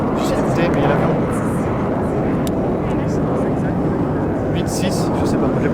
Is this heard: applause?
no